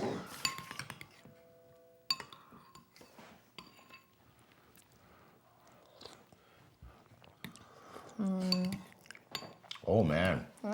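Metal spoons clink against bowls while mushroom soup is tasted, giving scattered light chinks amid faint rustling and brief nearby talk.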